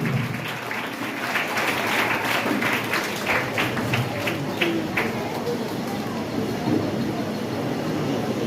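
A crowd at a felicitation program for 10th and 12th grade students applauds as guests come onto the stage, steady mid-level clapping with sharper claps early on and a low murmur beneath.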